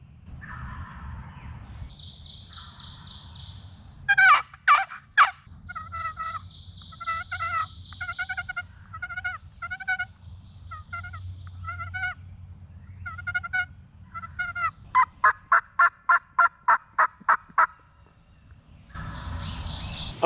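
A wild turkey gobbler in the late hunting season calls repeatedly in open country, with bursts of rapid, rattling gobbles and softer clucks set against a quiet background, growing louder toward a string of sharp evenly spaced notes near the end.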